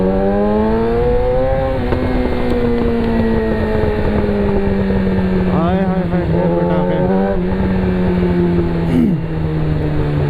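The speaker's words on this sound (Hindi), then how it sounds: "ये इतना ऊंचा एग्जॉस्ट है कि मुझे बोलने नहीं दे रहा।" Yamaha R6 600cc sport motorcycle with a loud exhaust, a steady droning engine note held close and continuous, pitch sagging slowly with a brief rev blip partway through.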